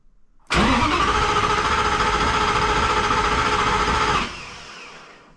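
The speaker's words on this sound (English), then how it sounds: "push this button here and rotate the engine through a few cycles" A starter motor whirs steadily, cranking a home-built supercar engine through a few cycles for about four seconds without it catching, then cuts off, leaving a faint fading hum.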